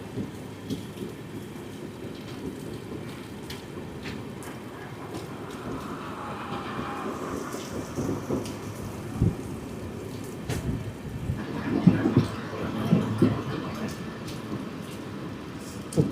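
Heavy rain drums steadily during a journey on the Ramnagar Dehradun Express as it passes Jwalapur in a storm, with the rumble and rattle of the moving train underneath and louder clatter near the end.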